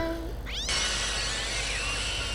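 A short cat meow in the video game Postal 2 breaks in, then a bright sustained tone holds steady over a low hum.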